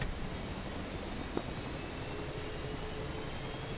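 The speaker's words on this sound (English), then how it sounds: "that's a Hornet idling over in the distance" F/A-18 Hornet jet idling in the distance in the DCS World flight simulator game, a faint, steady whine and rumble with no talking over it.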